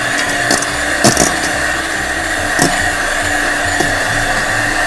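An electric egg beater on its middle speed whisks egg yolks with sugar, a loud continuous motor whir with a few brief clattering knocks of the beaters against the bowl.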